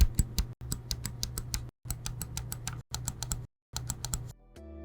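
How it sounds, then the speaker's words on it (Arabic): Optical micro-switch A, B, X and Y face buttons on a GameSir G7 Pro controller are pressed in quick succession: crisp, sharp mouse-like clicks up close, coming in short runs with brief pauses. "الزراير الأساسية ال A وال B وال X وال Y اوبتيكال مايكرو سويتش، وده صوت الدوسة بتاعتها"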